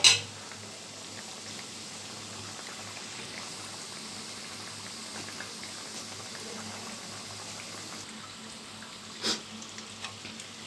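Khajur, a sweet dough, deep-frying in hot oil over medium heat, giving a faint, steady low sizzle with a few soft pops and bubbling crackles near the end.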